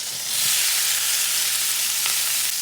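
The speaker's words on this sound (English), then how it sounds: "we're gonna saute them in some olive oil and some butter" Onions sauté in olive oil and butter in a pan, a loud, steady, close sizzle running without a break, with no talking.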